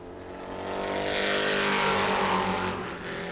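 Purple number 30 Pro Truck race truck at New Smyrna rises to a loud, sustained engine roar on a qualifying lap as it passes close, then fades slightly, with no talk over it.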